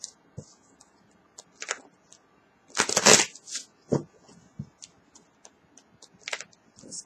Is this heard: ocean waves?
no